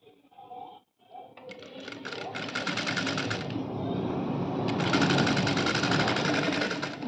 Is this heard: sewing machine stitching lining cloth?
yes